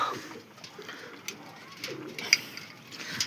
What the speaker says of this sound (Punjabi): ਕਬੂਤਰ ਚਿੱਟੀਆਂ ਅੱਖਾਂ ਦਾ ਕਬੂਤਰੀ ਵੀ ਚਿੱਟੀਆਂ ਅੱਖਾਂ ਦੀ